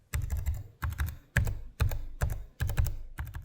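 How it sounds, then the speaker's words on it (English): Clicky keys on an MSI Stealth A16 gaming laptop keyboard being typed in seven quick, close bursts of rapid taps, separated by short pauses. "while the Stealth has slightly shorter key travel,"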